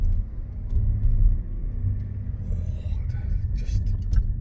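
A Jaguar TDV6 diesel car engine pulls away with a deep, steady low rumble heard from inside the cabin, swelling slightly as it moves off, with faint quiet voices over it.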